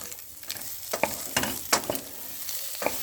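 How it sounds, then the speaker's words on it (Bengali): Potatoes and spices with turmeric sautéed in a pan for an egg and spinach curry, a steady sizzle broken by several scraping stirs of a spatula, close and alone without speech. "সুন্দর করে এবারে কষিয়ে নিতে হবে হলুদ দিয়ে"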